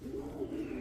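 A single pigeon gives a short, soft coo at close range against a quiet outdoor background, as a racing pigeon comes in during a fun race in Mulanay, Quezon.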